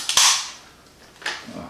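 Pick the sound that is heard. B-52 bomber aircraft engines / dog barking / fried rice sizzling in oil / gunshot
gunshot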